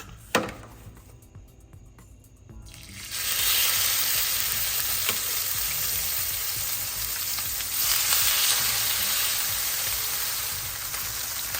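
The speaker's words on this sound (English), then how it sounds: "now we're ready to drop in the salmon" Salmon fillets hit smoking-hot oil in a pan: after a quiet start and a clack, a loud, steady crackling sear erupts and holds close and constant for the rest of the clip.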